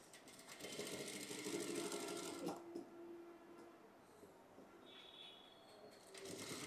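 Sewing machine stitching piping onto a princess-cut garment, a steady mechanical whirr running nearly throughout at close range, easing off briefly midway before picking up again.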